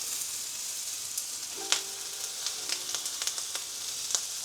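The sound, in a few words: onions frying in a cast iron pan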